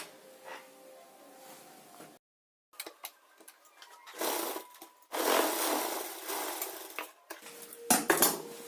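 A sewing machine stitches the puff sleeve of a blouse in several short, loud runs separated by pauses and handling clatter.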